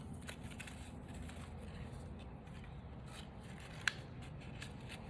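Scissors trimming the back part of a card for an explosion memory box, quiet faint snips and paper rubbing over low background hum, with one sharper click near the end.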